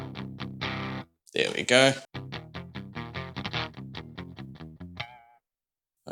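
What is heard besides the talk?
electric guitar through Earth Quaker Devices Palisades boost pedal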